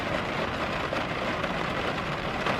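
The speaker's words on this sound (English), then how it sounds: "If it would just stop raining, it wouldn't be so bad, but it's like literally not stopping." Heavy, steady rain pours down during a flash flood, a dense, constant hiss with no breaks; traffic may be faintly mixed into the wash.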